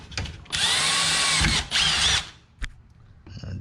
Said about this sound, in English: I have a 1/4 inch drill bit, and I'm just going to drill inside